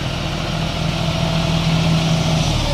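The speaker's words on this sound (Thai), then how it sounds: "รถไถเร่งบ่ขึ้นต้องรถไถเร่งไม่ขึ้นครับ" A tractor engine that fails to rev up, a steady low idling rumble with a constant drone and vibration, close and unchanging, no speech over it.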